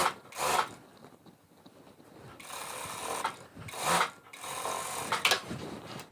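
A sewing machine runs in several bursts while stitching half-pants fabric, its rough, whirring buzz rising and falling at a low level close by.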